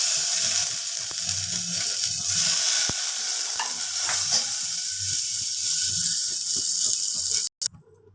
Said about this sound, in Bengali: মশলাটা ভাজা হয়ে গেছে, ফোড়নের আমি জল দিয়ে দিলাম।